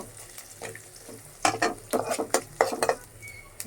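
Garlic frying in a pan, a soft sizzle under bursts of stirring and metallic scraping of a spoon against the pan, close and intermittent.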